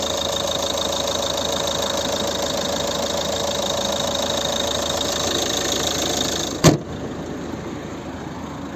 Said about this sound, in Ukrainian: Автомобіль прогрітий, і на прогрітий треба дивитись по вихлопу